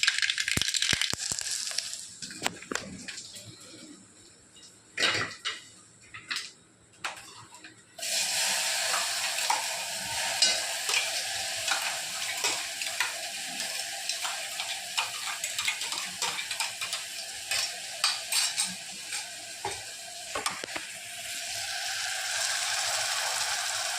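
Mustard seeds dropped into hot oil for a sprouted moth bean curry begin crackling and popping densely after a few scattered stirring clicks, then keep up a loud, continuous close sizzle with no talking.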